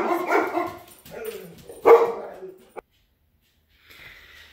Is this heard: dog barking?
yes